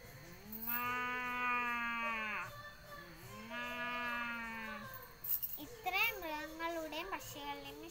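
A voice imitates a cow mooing at a school arts festival mimicry performance: two long, drawn-out moos followed by a shorter wavering call, loud and close, with no other sound behind it.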